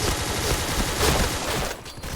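Rapid bursts of gunfire from a weak gun in the shooting game Point Blank, a dense continuous rattle of shots close and loud, briefly dropping out near the end.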